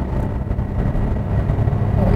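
A Kia Morning engine drones loud and steady at high RPM under hard acceleration, a rough, dense roar heard from inside the cabin with no talk.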